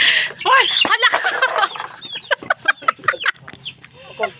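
Chickens cluck and squawk close by in a series of short, uneven calls, with people talking over and between them.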